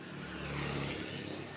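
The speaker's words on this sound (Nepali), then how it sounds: "बाइक पनि हिँड्दा छ धेरै।" Motorbikes and other traffic going by on a rainy Kathmandu street, a steady engine drone with a brief swell as a vehicle passes, at moderate distance.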